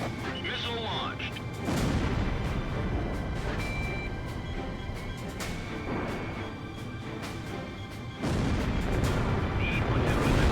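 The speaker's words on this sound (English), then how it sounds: "Missile launched." Missile launches and explosions in the Ace Combat Zero air combat game come as heavy booming bursts and rumbling blasts over a constant roar of jet noise, loud and close, with a sharp surge near the end.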